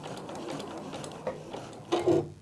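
A Juki DX sewing machine stitching, a steady, smooth mechanical hum running close and fairly quiet, ending in a brief louder burst of whirring as it stops.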